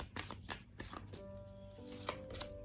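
Tarot cards picked up and handled one after another, giving a series of close, quiet papery taps and slides in an irregular rhythm.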